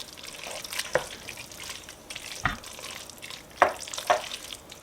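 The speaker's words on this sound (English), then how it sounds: "going to add my 2 tablespoons of butter and stir it in the pasta" Butter is stirred into pasta in a pot, with a soft, steady sizzling wet churn punctuated by a few louder scrapes and clacks of the utensil against the pot.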